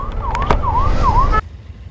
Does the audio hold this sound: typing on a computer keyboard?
no